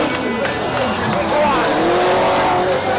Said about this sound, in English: Massive entry from Steve Biagione and impact! Impact on the first corner!